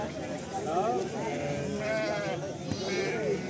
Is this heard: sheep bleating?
yes